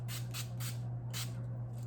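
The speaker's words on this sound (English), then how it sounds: "spray some of this Cucumber Wet n Wild" Several short hissing sprays of Wet n Wild cucumber face mist puff in a loose rhythm, close to the ear, over a steady low electrical hum.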